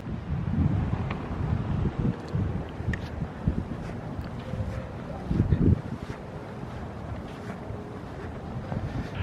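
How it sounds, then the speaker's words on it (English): Gusty wind on a cold Pensacola beach buffets the microphone with low rumbling blasts that rise and fall throughout, loud and close, with no voices. "It is cold and windy."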